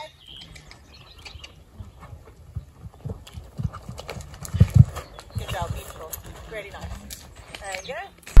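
A horse canters toward a jump and goes over it, with soft rhythmic hoofbeats building to a heavier thud at the jump, heard under a rider's encouraging voice, with faint birds in the background.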